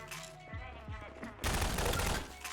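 Gunfire in the shooter game Half-Life, a sudden loud burst of rapid shots after a few quieter thuds, with talk mixed in.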